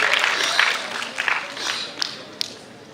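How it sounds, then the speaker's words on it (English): Conference audience at a university scholar summit applauding as a session moderator is introduced, a moderate burst of clapping that thins out into a few scattered claps, with faint crowd murmur. "Please give a big round of applause for Heru Suseto."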